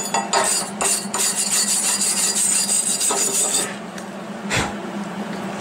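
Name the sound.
wire brush cleaning a MIG weld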